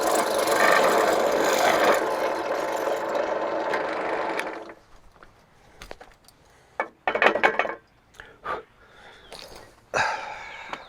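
A power drill with a 1/8-inch bit whirs steadily for several seconds boring a hole in the collar of a trammel tool, then stops, followed by scattered clunks and short bursts of handling noise.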